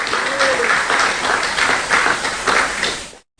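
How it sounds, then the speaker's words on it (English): A round of applause for Father Santos, a parish priest, at a book launch event, dense crowd clapping swelling in waves for about three seconds before cutting off abruptly. "A round of applause for Father Santos"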